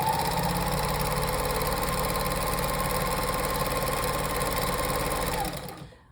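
A sewing machine fitted with a walking foot runs steadily along a quilt edge, a close, even mechanical whir that holds for several seconds and then winds down to a stop.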